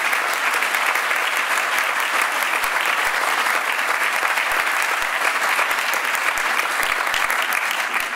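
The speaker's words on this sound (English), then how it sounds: "We give a little round of applause for our scholarships." A luncheon audience applauds scholarship winners with sustained, dense clapping that holds at an even, fairly loud level throughout.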